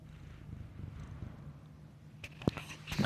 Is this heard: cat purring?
yes